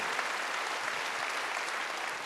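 A church congregation claps together at a Korean Wednesday worship service, a brief, steady wash of applause from many hands with no voices over it.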